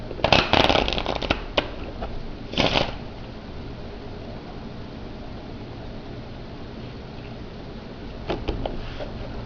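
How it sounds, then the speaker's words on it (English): A deck of playing cards is riffled and shuffled in a few crisp bursts near the start, then mostly steady hiss with a brief flutter near the end. "I'm going to shuffle it into the deck."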